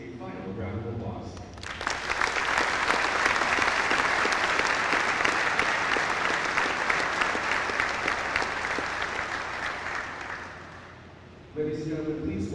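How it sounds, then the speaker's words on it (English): An audience at a 7th Regiment Advanced Camp graduation ceremony gives the awardees a long, dense round of applause, loud and sustained for about ten seconds before fading, with a voice speaking at the start and end. "please join me in giving our awardees a final round of applause"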